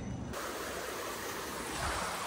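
Rain falls steadily in a forest, a dense, even wash of noise that stays constant throughout.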